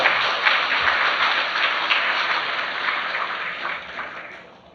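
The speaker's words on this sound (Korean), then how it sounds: "우리 모두 환영의 박수를 부탁을 드리겠습니다." Applause from an audience welcoming people at a year-end special gathering: a dense, even wash of clapping that holds steady for several seconds and then slowly fades.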